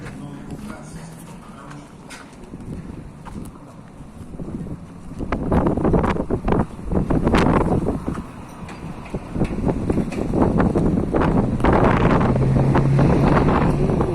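Strong wind in Yakutsk buffets the microphone in loud, gusty rumbles, starting quieter and then roaring heavily through the second half.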